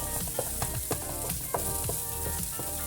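Tomato filling cooking in a hot pan for cheese rissoles, a steady close sizzle with soft scattered pops and occasional stirring scrapes, no talk.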